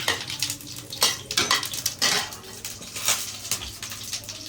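Cumin seeds and onion frying in a pan, a steady close sizzle mixed with clinks of a spoon stirring against the metal pan, continuous and fairly loud with no talk.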